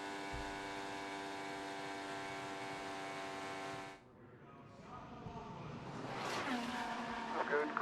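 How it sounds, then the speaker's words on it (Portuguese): An IndyCar race car engine at the Indianapolis Motor Speedway during Indy 500 qualifying gives a sustained high-pitched whine, cuts off briefly, then rises again into a building roar. "Vamos de carona com o McLaughlin, você que tá com saudade de ouvir o motor roer, rugir."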